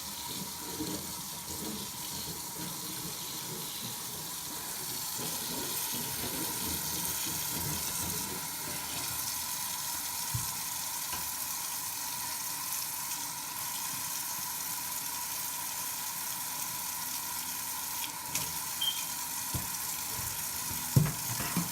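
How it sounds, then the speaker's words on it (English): Steady rush of running tap water with a soft hiss while washing dishes, a few light clinks and splashes near the end, no voices. "I do like the water to be running when I do the dishes"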